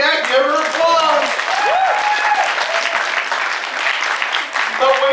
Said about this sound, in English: Yeah, give her applause.